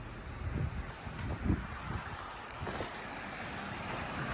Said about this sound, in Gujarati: પવન છે સારો એવો કાલ કરતો ઓછો